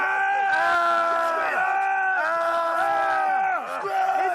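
Marine recruits at boot camp scream together on command in long, loud, overlapping yells, several sustained bursts one after another.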